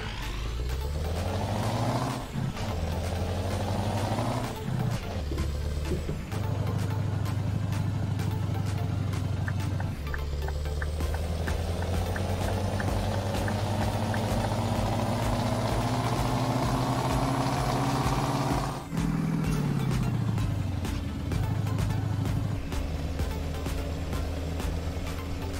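Scania 143 500 truck engine in Euro Truck Simulator, a loud deep diesel drone that climbs through repeated gear shifts, each pull rising in pitch before dropping at the next change.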